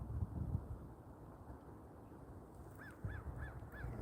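A crow calls four times in a quick series near the end, clear but moderately distant, over a steady low rumble of wind or background noise outdoors while waiting for sunrise.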